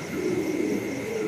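A pair of Modena pigeons gives a low, soft cooing that is close and sustained, then cuts off abruptly at the end.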